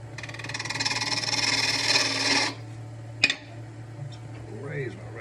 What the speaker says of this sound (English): I'm going to use a slightly smaller gouge